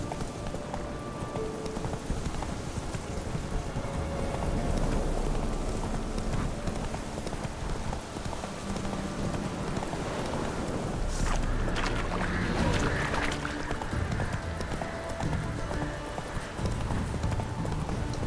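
Horse hooves gallop steadily in The Witcher 3 video game, a continuous rhythmic clip-clop layered over wind and game ambience, loud and close throughout with occasional sharper bursts.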